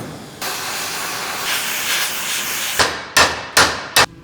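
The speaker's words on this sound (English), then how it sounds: "That gap right there, I'm gonna put some heat into it and beat it down." A torch hisses steadily against a sheet metal gap on a J10 floor, then four sharp, loud hammer blows ring out in quick succession as the metal is beaten down.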